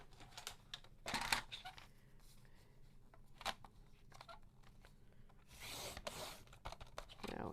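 Scissors trim a folded sheet of colored paper for a kids' activity box. There are a few quiet, scattered snips and crisp paper rustles, with short pauses between them.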